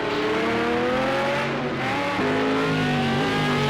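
Race car engine from Project Cars 2, a Group C race at Brno, droning loud and steady with a shift in pitch partway through as the car slides wide, with a faint tire squeal underneath.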